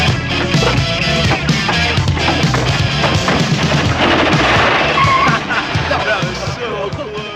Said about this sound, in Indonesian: terlihat pria yang menembaki anjing liar